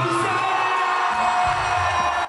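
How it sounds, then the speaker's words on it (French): Live show crowd cheering loudly, a continuous roar of whoops and yells from many voices with applause blended underneath, close and sustained throughout. "Applaudissements."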